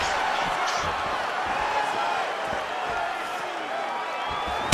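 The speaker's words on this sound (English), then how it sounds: "Crowd is like just reacting every time he moves." A UFC 261 arena crowd murmurs and roars in reaction to Jorge Masvidal's strikes and movement against Kamaru Usman, a dense, steady wash of noise with scattered sharp claps and thuds.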